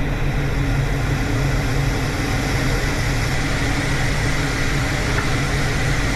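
A car engine idles roughly, a steady low rumble that runs the whole time, near and fairly loud, with a slightly uneven throb and no talk.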